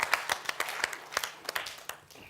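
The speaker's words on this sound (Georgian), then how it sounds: "კიდე ერთხელ აპლოდისმენტები." Scattered claps and short applause from a studio audience at a Georgian comedy game show, sparse individual hand claps with uneven rhythm, moderately faint, with no talking.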